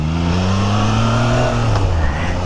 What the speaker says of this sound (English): So you're gonna make a turn and you're trying to lightly add throttle into the turn,